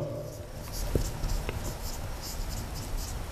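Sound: writing the name of methane on a board

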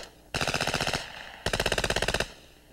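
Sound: FN Herstal P90 submachine gun firing

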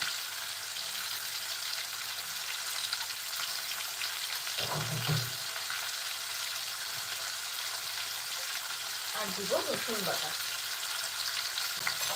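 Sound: ginger paste frying in a pan with prawns

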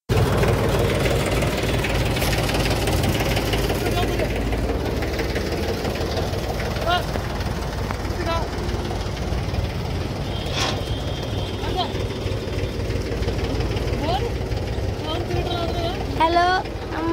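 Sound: 5 kW generator set on Lister engine running

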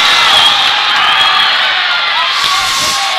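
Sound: basketball crowd cheering after Laird Whiteshield's dunk

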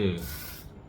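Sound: sunscreen spray sprayed onto palm

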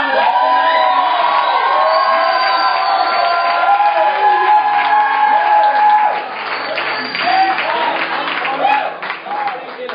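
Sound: church congregation cheering

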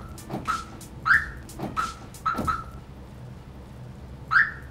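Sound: car alarm on a van

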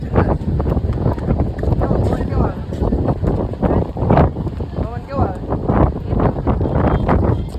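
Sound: strong wind blowing

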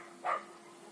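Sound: small dogs barking

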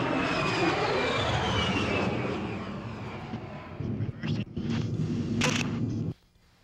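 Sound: A-10 Thunderbolt II jet aircraft making a demonstration pass

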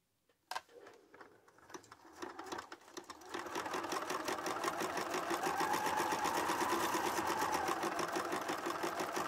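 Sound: sewing machine chain piecing a seam

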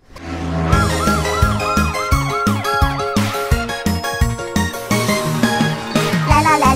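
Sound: fire engine siren in children's animation

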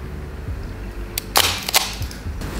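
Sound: vintage camera shutter being released

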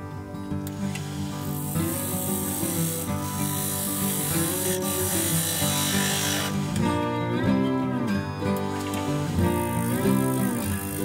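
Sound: woodturning lathe cutting a tenon on an oak blank

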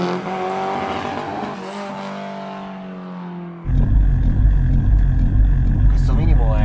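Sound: Fiat 600 with 250 hp Punto Abarth engine idling

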